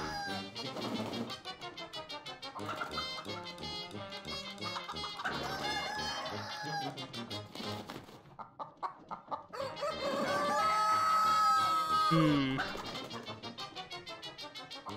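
Chicken in the video game ALTF4 clucking repeatedly over about fifteen seconds, with a long drawn-out squawk near the end, all layered over steady game music and effects, no speech.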